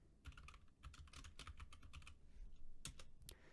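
A computer keyboard clatters under quick, close typing, a run of crisp clicks in short bursts with brief pauses between them.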